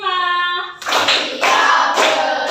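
A classroom group clapping together in a quick patterned rhythm, several bursts of close, sharp hand claps after a brief sung or voiced tone at the start.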